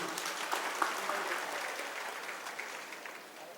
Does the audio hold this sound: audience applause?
yes